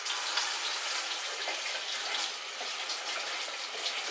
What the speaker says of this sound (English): I'm going to rinse that very quickly.